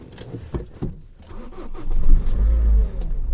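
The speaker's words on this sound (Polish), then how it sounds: "Samochód odpalił od strzała." A Nissan Qashqai 2.0 diesel engine cranks with a few quick clicks and turns, then catches and rumbles loudly into a rising idle.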